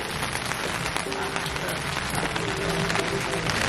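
Heavy rain falls in a dense, even hiss throughout, with faint tones drifting in the background.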